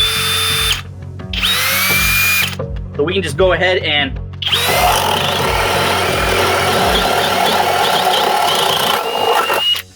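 A FLEX hammer drill in turbo mode bores holes in bursts, whining loudly and close up. Someone speaks briefly during a pause between runs.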